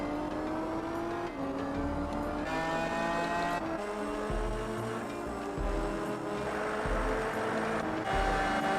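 A racing car engine in Gran Turismo 4 whines steadily through its rev range, climbing in pitch and dropping back with each gear shift, loud and continuous with no talking.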